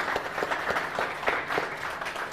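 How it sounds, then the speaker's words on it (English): A conference audience applauding a speaker, giving a short round of moderately loud clapping with distinct individual claps in an irregular patter, and no talking over it. "Let's give our speaker one more round of applause."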